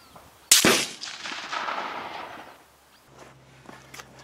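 A single sharp, loud rifle shot from an SC 1903A4 hybrid at an outdoor range, followed by a rolling echo that fades over about two seconds, then quiet with faint background noise.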